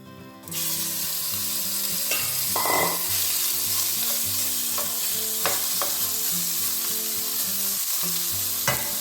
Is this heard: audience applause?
no